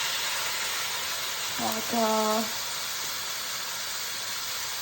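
Chinese wine hits a hot wok and sizzles with a steady, broad hiss that holds throughout, while a voice briefly speaks over it.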